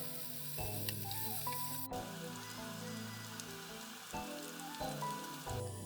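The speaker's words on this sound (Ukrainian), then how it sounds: "На попередній пательні смажимо картоплю." Steady crackling sizzle of potatoes frying in a pan until golden, a dense continuous hiss with low background music playing throughout.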